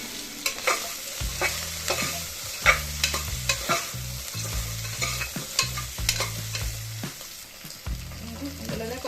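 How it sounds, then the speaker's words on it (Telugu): Raw vegetable pieces frying in oil, stirred repeatedly with a spoon that scrapes and knocks against the pot over a continuous close sizzle, no talk. "పచ్చి ముక్కలన్నీ కూడా ఒకసారి ఆయిల్లో కొంచెం మగ్గనివ్వాలి"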